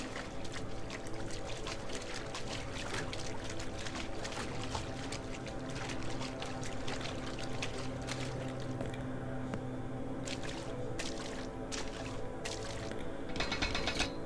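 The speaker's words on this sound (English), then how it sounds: "It made me look at the wall and then played a bunch of sloshy sounds." Sloshy, watery churning in the horror game Coma: Mortuary, a steady dense wash of liquid and mechanical rumbling that continues for the whole stretch with no voice over it.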